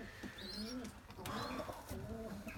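Pigeons cooing nearby, several soft repeated coos overlapping in a quiet outdoor setting, with a faint chirp now and then.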